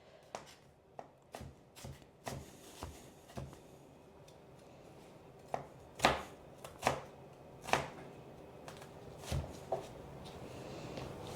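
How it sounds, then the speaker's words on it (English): An onion is halved and sliced all the way down on a cutting board, giving a series of crisp knife taps, irregular at first and then louder and closer together, with no talking. "we just want to half the onion and then put that half in half, and we're gonna slice it all the way down"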